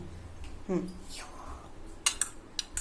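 A spoon clinks and scrapes against a pot while stirring a soybean chilli mixture, with a few sharp metallic taps near the end and a brief voice earlier.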